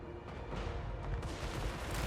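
Cannon fire in a Total War: Warhammer Empire campaign battle rumbles in a dense, continuous barrage of booms, loud and overlapping.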